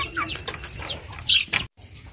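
Just-fed farm chickens give short, scattered clucks and squawks at close range over a low background rumble, with a brief silence near the end.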